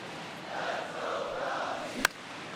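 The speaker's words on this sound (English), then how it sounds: "you can feel this crowd waking up a bit here" Stadium crowd at a baseball game in MLB The Show 23, Cubs versus Cardinals, a steady mid-level roar that builds slightly, with one brief sharp crack near the end.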